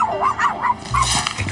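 A small dog yips and barks in quick, high bursts inside a Paris metro station, with a low rumble and other background sounds beneath.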